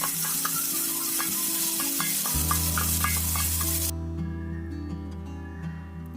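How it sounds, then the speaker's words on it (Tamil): Marinated chicken for homemade shawarma deep frying in hot oil, a steady broadband sizzle with scattered light pops and clicks, a low hum entering midway and the bright hiss thinning toward the end. "அதை எண்ணெயில் போட்டு நல்லா பொரிச்சு எடுத்துக்கலாம்."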